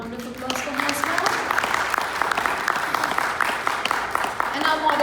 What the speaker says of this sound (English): Can we have a loud round of applause for her as well?